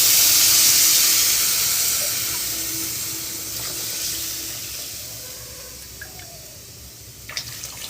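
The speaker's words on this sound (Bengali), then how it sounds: "ভাজা ভাজা হয়ে গেছে, আমি এবার পরিমাণ মতো জল দিয়ে দেবো।" Water is poured into a hot pan of frying spices, giving a loud hissing, bubbling rush at first that gradually softens into a quieter simmering sizzle with a few faint clinks near the end.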